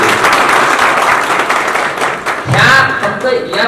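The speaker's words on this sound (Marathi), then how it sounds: "म्हणून त्यांचं जोरदार टाळ्या वाजवून आपण स्वागत करू." An audience at a gathering claps loudly and steadily, with crowd voices and talking rising over the applause toward the end.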